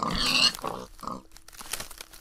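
A pig oinking in a video game: a loud burst of grunting oinks at the start, then a few softer snorts and grunts.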